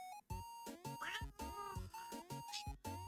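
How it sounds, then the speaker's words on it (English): A house cat meows repeatedly in a quick series of short, tonal calls, close and clear, with small pauses between each cry. "Would you like to see the kitty cat?"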